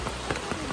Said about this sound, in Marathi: आज पाऊस यायला लागला